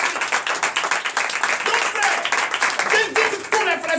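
Congregation clapping and acclaiming Jesus during a night deliverance and prophecy service, dense rhythmic clapping mixed with loud crowd voices and shouting throughout.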